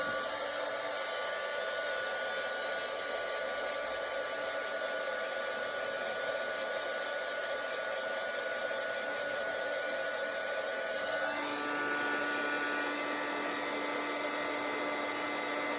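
A heat embossing tool gives a steady, loud whooshing blast of hot air that runs continuously, like a hair dryer, with a slight shift in pitch partway through.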